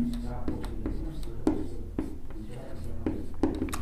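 Marker or chalk tapping and scratching on a board during a reasoning lesson about clocks, with short irregular strokes about every half second, under a teacher's quiet speech.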